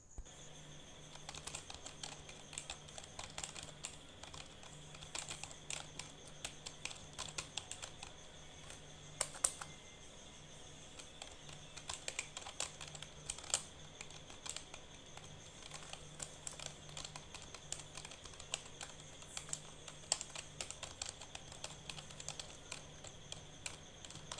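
Steady keystrokes on a computer keyboard as code is typed into the Turbo C editor, with quiet irregular clicking and occasional louder taps, no talking.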